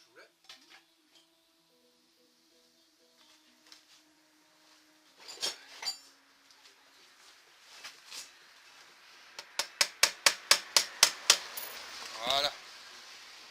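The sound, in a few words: small hammer tapping while replacing a motorcycle chain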